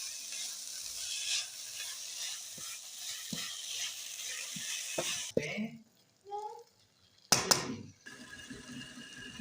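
Carrot halwa is stirred with ghee and sugar in a pan, giving a steady sizzling, scraping stir with intermittent spoon clinks and knocks, briefly interrupted, then resuming with clattery metallic scrapes.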